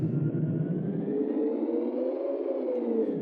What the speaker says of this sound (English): Fundamental A is sort of a basic sort of engine hum that does go up in pitch and volume